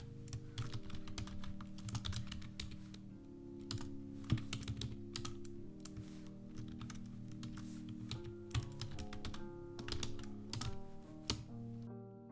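A line of C++ code typed on a computer keyboard: rapid, uneven bursts of close, crisp key clicks with short pauses between words, and no talking.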